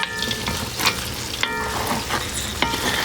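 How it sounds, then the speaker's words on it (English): Lard rendering over the lowest heat, stirred now and then: a steady soft sizzle with gentle scraping strokes of the spoon repeating every second or so, close and moderately quiet, with no voices. "Our lard is rendering down nicely."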